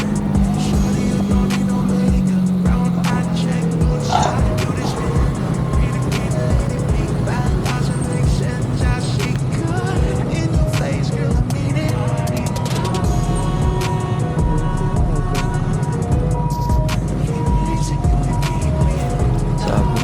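Heavy morning rush-hour road traffic surrounds a motorcycle rider, with many cars and engines rumbling and passing continuously, loud and close, under intermittent talk.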